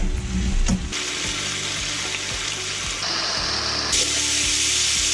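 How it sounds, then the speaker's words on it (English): Onions and peppers frying in a pan for a creamy chicken pesto pasta, producing a bright, steady sizzle up close after an initial clatter, with faint stirring knocks. "get a bit of colour and caramelise these onions a bit more. I'll throw in my peppers so they can start to cook now."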